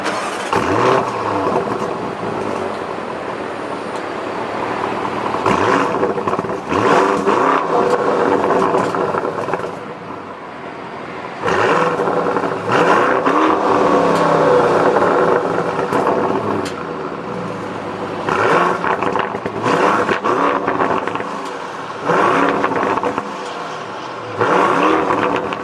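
A 2019 Lamborghini Urus fires up and revs through its quad-tip dual exhaust, with repeated loud blips and surges separated by brief idle dips, close and forceful throughout.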